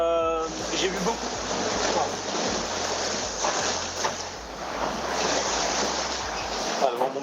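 Heavy ocean swell and gusting wind roar around a racing sailboat in an around-the-world solo race, a loud, continuous wash of sea and wind noise with a low engine-like hum and some talk mixed in.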